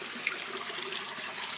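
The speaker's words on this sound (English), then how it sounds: "Right there, water goes down to the very bottom." Water rushes and trickles steadily down through an aquaponics system's plumbing into the bottom of a grow bed, a continuous close splashing flow with faint bubbling.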